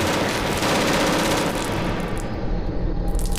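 Rapid bursts of gunfire in the horror game STASIS rattle loud and close, a dense volley that fills the first half before thinning into scattered shots, with no talking.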